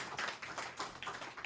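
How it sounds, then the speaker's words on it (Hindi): Students in a school classroom clap, a quiet, fairly distant patter of claps in loose rhythmic bursts with no talk over it. "जोरदार तालियां।"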